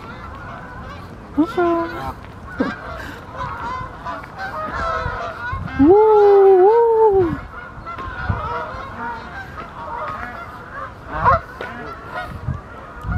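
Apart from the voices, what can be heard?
geese honking on a frozen lake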